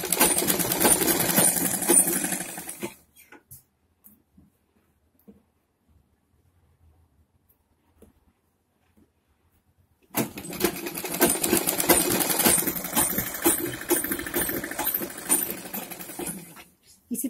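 A sewing machine stitches the corner of a lined designer blouse sleeve, its fast running hum loud and close in two long bursts separated by about seven seconds of near silence.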